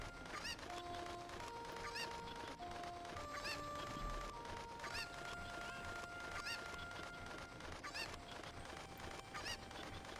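Chickens from Ocarina of Time, a stream of squawky, honking clucks repeating in short bursts over a faint in-game background, moderately loud and without talk.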